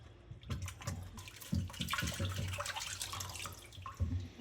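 Cold tap water runs and splashes over an S&S/K&N air filter being rinsed after soaking, from a 2008 Harley-Davidson Softail Cross Bones; a steady close pour with brief louder gushes, no talking.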